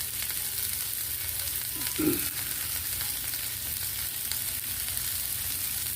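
Chicken drumettes sizzle on a Blackstone griddle, basted with buttery garlic and herb, giving a steady close crackling hiss throughout with one brief louder scrape or stir in the middle and no talk.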